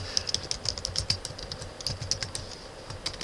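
Close-up typing on a computer keyboard while renaming a game mod folder, with a quick irregular patter of sharp key clicks and taps continuing throughout, with no speech.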